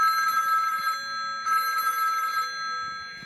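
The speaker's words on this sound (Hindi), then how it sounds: "अरे इसे ये रिंगटोन बहुत पसंद है" A phone ringtone plays loudly and clearly in two repeating bursts with a short gap between them, a bright electronic ring with no talking over it.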